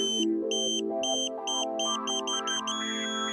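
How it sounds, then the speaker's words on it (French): Ka-Sat satellite dish pointing tone, an electronic beeping pattern whose pitch steps steadily upward through a series of short repeated tones before settling into a continuous tone, loud and alone. "La tonalité doit changer et retourner sur la tonalité continue quand on lâche l'antenne."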